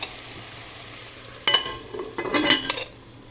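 Green beans with tomato sizzling and frying in a pot, with a sharp clatter of a lid or utensil and a louder burst of sizzling and stirring near the end.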